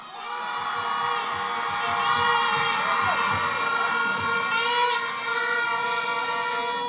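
A large crowd at an outdoor public political meeting at Sangre Grande's PTSC terminal cheers and shouts without a break, loud and dense, with whistles and high voices rising over a continuous roar.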